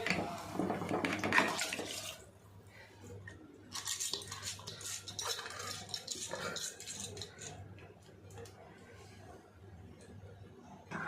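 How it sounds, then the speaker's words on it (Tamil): Rice is poured into a pot of water mixed with curd, giving a brief rattling pour at the start, followed by faint kitchen clinks and sloshing at low volume. "இப்போ அரிசி போட்டுடலாம்."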